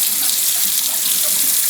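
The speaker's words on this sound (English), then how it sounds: "I just shot a load of water all over the floor" Water from a sink faucet sprays out in a steady, loud rushing stream during sink cleaning, splashing onto the floor, continuous and close with no voices.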